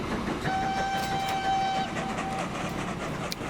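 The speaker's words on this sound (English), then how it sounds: "the train is here. I was going to say there's going to be a bit of a delay, but the train has arrived." A freight coal train arrives in the Transport Fever 2 video game, rolling and clattering loudly while a sustained whistle sounds for over a second, then a brief second toot.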